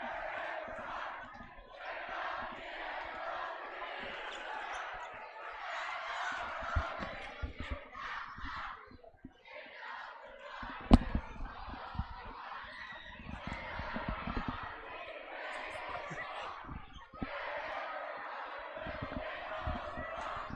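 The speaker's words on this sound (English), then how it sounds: "And there's the crowd rushing the court" At a high school boys' basketball game, a crowd cheers and yells while rushing the court, loud, continuous roaring with bursts of shouting and a few sharp peaks, going on for about twenty seconds.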